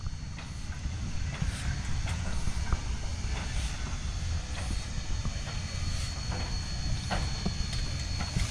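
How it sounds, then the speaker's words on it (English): A steam locomotive shunts back at a rural station during a heritage train trip at Grandchester, giving a faint, distant, continuous rumble with soft hissing and scattered light clanks. "The locomotive is shunted back to prepare for the journey back to Brisbane."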